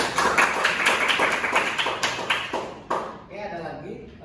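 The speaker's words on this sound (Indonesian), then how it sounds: "Boleh tepuk tangan dulu buat kelompok kalian." A classroom of students claps for a presenting group, a fairly close burst of scattered, quick clapping that thins out and stops after about three seconds, leaving faint voices behind.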